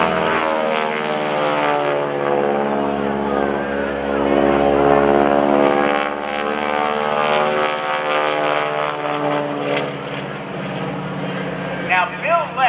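A North American T-6 Texan propeller plane roars loud and close as it takes off and rolls during an aerobatic airshow demo at NAS Oceana, its steady engine drone shifting in pitch as it passes, with an announcer talking over it.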